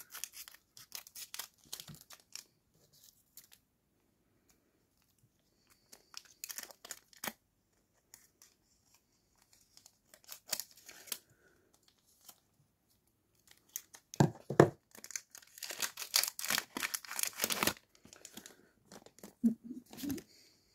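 Pokémon Sword and Shield era booster pack wrappers being torn open, with crisp foil crinkling and ripping in scattered bursts, close and quiet, busiest near the end.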